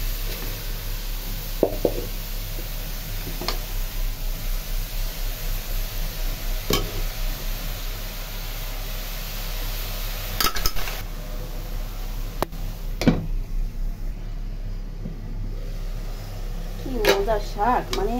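Red leafy greens (shak) frying in oil and being stirred in a pan: a soft, steady sizzle with sparse clicks and knocks of a utensil against the pan, under occasional brief voices.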